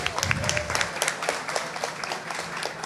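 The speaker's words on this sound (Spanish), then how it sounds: "Un aplauso para Rebeca." Audience applause for a panelist being introduced at a science talk event in Manta, a steady patter of clapping with a faint voice underneath, lasting just a few seconds.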